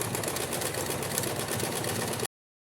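Sewing machine running a reinforced straight stitch back and forth around a circle of fabric for a scale-pattern tea towel; a steady, continuous close mechanical whir for about two seconds, then it stops.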